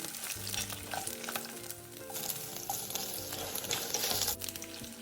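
Garlic cloves and ginger slices are stir-fried in a wok over melted rock sugar, giving a busy close sizzle with rhythmic scraping and tossing strokes throughout.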